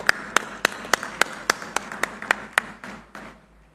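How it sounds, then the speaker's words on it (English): An audience claps in unison at a Google foundation-stone ceremony for an AI hub in Visakhapatnam, a steady beat of about a dozen sharp claps over crowd noise that thins and fades at the end. "Let's make sure our guests behind us are able to hear your applause."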